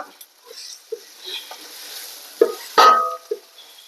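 Turmeric and ground pepper fry on a low flame for a beef curry, giving soft, intermittent sizzles and stirring taps, fairly quiet, with a sharper burst of sizzle near the end.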